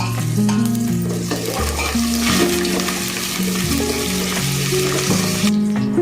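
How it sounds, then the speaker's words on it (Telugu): Dried red chillies and curry leaves dropped into hot oil for a sambar tempering, crackling and sizzling steadily up close while soft music plays underneath. "బ్రౌన్గా అయితే దాని తర్వాత ఎండుమిర్చి కరివేపాకు వేయాలి."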